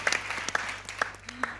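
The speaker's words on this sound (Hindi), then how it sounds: "जरा जान से तालियां हो जाएं अज़ीका के लिए।" A talk-show studio audience applauds actress Azeeka Daniel: a short, dense burst of clapping with a few sharp claps standing out and voices mixed in.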